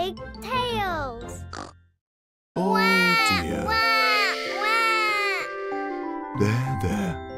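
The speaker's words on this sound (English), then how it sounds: "Peppa has found a video of when she was a baby. I was a very loud baby" A cartoon baby pig cries loudly in long, wailing, oink-like sobs, starting with one outburst, pausing, then resuming in sustained loud crying near the listener.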